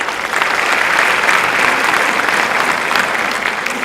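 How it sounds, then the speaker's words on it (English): Applause from the audience at the William Woods University commencement ceremony, a dense, even wash of many hands clapping at once, loud and sustained throughout. "You can hold your applause till the end of this."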